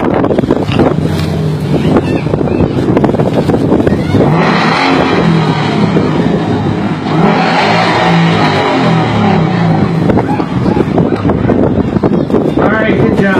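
An orange Ford Mustang revs its exhaust at an outdoor exhaust contest, loud close bursts of engine roar rising and falling in repeated waves, with wind noise and voices in the background.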